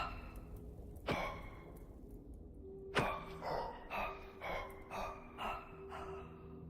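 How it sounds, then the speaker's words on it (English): A person breathes heavily into a microphone to voice a Minecraft mod mob, giving two sharp gasps followed by a run of rhythmic, close puffing breaths, with no other sound. "that's me breathing heavily into the mic"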